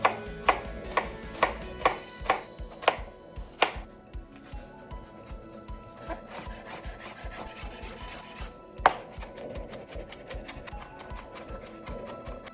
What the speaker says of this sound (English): We're going to start with the shallots. We're just going to mince that.